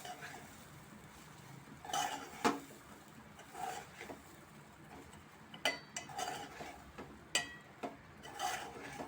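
Poha is stirred in a pan, a spoon scraping and clinking against the metal in irregular bursts, some louder knocks among softer rustling, with no talk over it.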